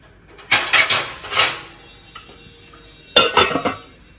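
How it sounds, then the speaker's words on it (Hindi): A metal lid is set onto a pot of cumin water boiling on the stove, giving two clusters of sharp clanks and rattles separated by a quiet pause, close and crisp with no talk. "इसको मैं कवर कर लेती हूँ."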